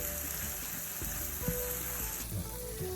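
Vegan Ethiopian ful with chili cooks in a pan, giving a steady close sizzle with a few soft stirring scrapes and no talk.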